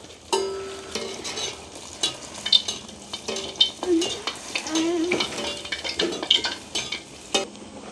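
Wheat flour vada frying in hot oil in a village kitchen, bubbling and sizzling up close while a utensil repeatedly clinks and scrapes against the pan in uneven bursts.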